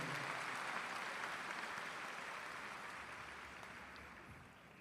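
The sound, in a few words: audience applause for graduating seniors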